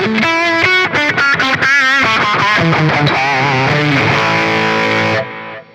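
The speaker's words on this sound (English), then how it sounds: "Next up is a Distortion Plus." Electric guitar played through the Distortion Plus effect of a Zoom MS-100BT multi-effects pedal gives a loud, saturated tone. Short picked notes give way to sustained, bending lines, and then it stops abruptly.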